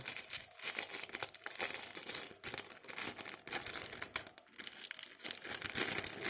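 A plastic bag from a 1:18 scale action figure package crinkles and rustles continuously, close and fairly loud, with irregular crackling bursts as it is handled; no talking.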